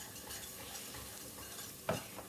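Butter being whisked into a broccoli cheese soup base in a pot, a soft continuous scraping and stirring with a louder clink of the whisk near the end, close and fairly quiet.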